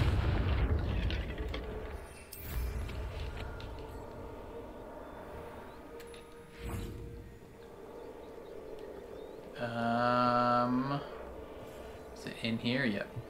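A Confringo fire spell is cast in the Hogwarts Legacy video game near an encampment, giving a muffled blast and rumble early on, followed by game ambience with several bright tonal magical effects and whooshes later.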